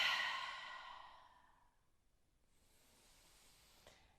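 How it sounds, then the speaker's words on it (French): One long, audible exhale through the mouth during a yoga cool-down: close and breathy, fading gradually over a couple of seconds into quiet room tone. "On expire par la bouche."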